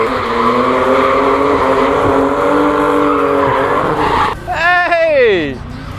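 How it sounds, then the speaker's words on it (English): A drift car engine roars steadily at high revs at a drifting event, then a sharp rising-and-falling revving whine with tire skid near the end, loud and close. "All the drifting sound."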